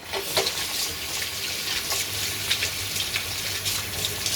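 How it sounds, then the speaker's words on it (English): Hands being washed under running tap water, a steady close splashing and rushing of water with small irregular splashes, no talk. "So what we do is wash his hands."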